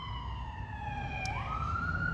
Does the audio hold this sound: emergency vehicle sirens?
yes